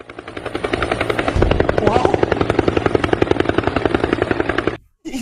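A helicopter's rotor chops rapidly and loudly nearby, swelling slightly midway, then drops out abruptly before a short burst resumes.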